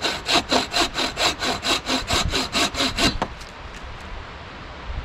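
A bow saw cuts through wood in about a dozen quick, even back-and-forth strokes, close and loud, before the sawing stops and only a quiet background remains.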